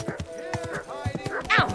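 A ridden horse clip-clopping along a road, a run of close hoof knocks with snorting and breathy animal sounds mixed in.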